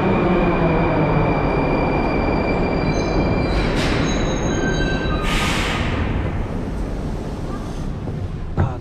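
Kazan metro train at a station, a steady loud rolling rumble with high whining and squealing tones, and bursts of hissing air partway through.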